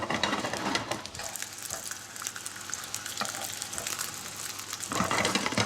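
Breaded fish fingers frying in a hot pan give a loud, continuous close sizzle and crackle that swells briefly near the end, heard alone without any talking.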